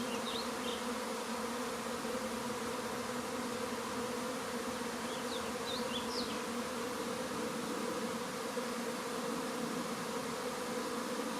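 A swarm of bees gives a steady, even droning hum as it moves into a hole, continuous and moderately near with no voices.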